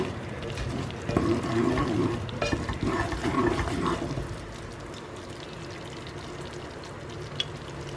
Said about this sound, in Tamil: இனி அது உள்ள இழுக்க இழுக்க நெய் ஊற்றணும்.